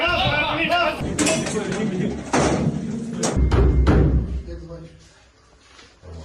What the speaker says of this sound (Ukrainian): Поліція відчиняє двері!